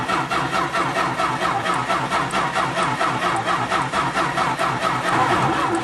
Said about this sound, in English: Wow, your engine cranks so slow.